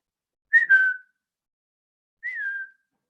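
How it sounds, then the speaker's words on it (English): A person whistles two short signal calls, each a brief rising then falling tone, the first louder and the second softer after a pause, with silence around them and no speech. "Whistle then to me"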